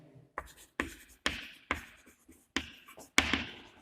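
A hand writes out notes on converting a galvanometer into an ammeter and voltmeter: quick, scratchy strokes and taps come in a steady series of short bursts, close and fairly quiet, with no talking.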